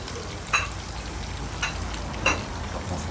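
Garlic beef sizzling in a pan for Thai cooking, a steady broadband fry hiss with a few brief louder spatters or stirring scrapes, close and alone without speech.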